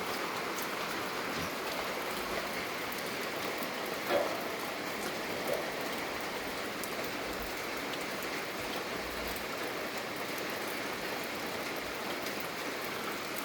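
Steady rain falls on a home where the roof leaks, a dense continuous patter holding even level throughout, with a couple of faint brief knocks and no talk.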